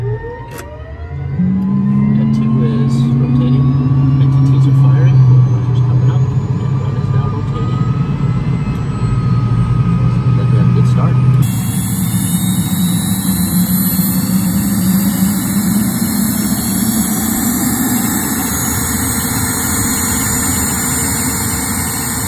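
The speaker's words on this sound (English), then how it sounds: "press the engine start button" A Cirrus Vision Jet G2's jet engine spools up with rising whines and a deepening roar, settling into a loud, steady high-pitched hum with layered tonal whine.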